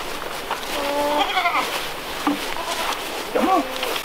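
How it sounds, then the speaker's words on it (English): Goats bleating in a farm pen, several short wavering calls spaced across the clip at moderate distance over steady outdoor background noise, with no one speaking. "These goats won't hurt you."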